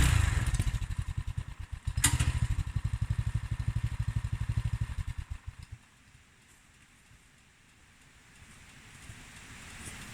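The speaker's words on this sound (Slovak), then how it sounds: "Nakoniec sa to predsa len darí a traktor sa rozbieha z miesta." A tractor fitted with dual-mounted wheels labors under a heavy load, its engine chugging in a loud, steady rhythm before cutting out about halfway through and leaving near silence.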